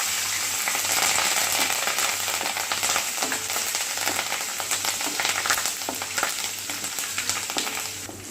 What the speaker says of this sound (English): Now we have to add curry leaves and green chilies.